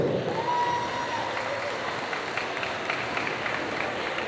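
An audience at a solo cosplay contest at the Perigeekasia 2022 convention keeps up steady, sustained applause that fills the hall evenly, with no single clap standing out.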